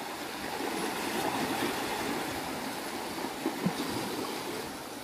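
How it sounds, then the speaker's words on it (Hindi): Fast-flowing water of a stream near the Chandi Mandir site in Mohali, a steady broadband rush that holds evenly throughout, with a couple of brief splashy bumps near the end. "बहुत तेज पानी चल रहा है"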